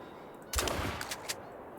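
Rifle shots at geese during a hunt in theHunter: Call of the Wild, a burst of several sharp reports about half a second in, followed by two or three quieter shots, over a low outdoor ambience.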